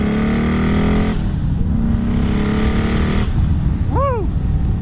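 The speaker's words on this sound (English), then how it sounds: "So this is the first time I ever rode a turbo bike." A Harley-Davidson motorcycle fitted with a Trask turbo kit pulls hard under a rider, its engine droning loudly and shifting pitch as it accelerates, with wind rush throughout and a brief whistling rise near the end.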